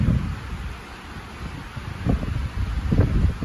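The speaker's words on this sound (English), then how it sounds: "Here comes a gust." Gust of wind blowing through trees, a broad rushing roar that swells toward the end with low rumbling buffets, loud and close, with no speech.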